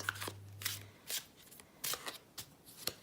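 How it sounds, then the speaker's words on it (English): Tarot cards shuffled by hand in an ASMR reading, a quiet close-up series of crisp riffling bursts repeating at a loose, steady rhythm with no talking. "I won't talk as I shuffle"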